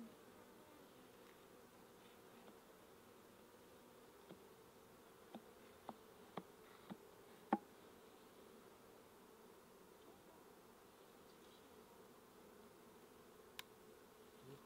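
Honeybees hum steadily around an open beehive during an inspection of brood and capped honey frames, a continuous close drone broken by a few light clicks and taps.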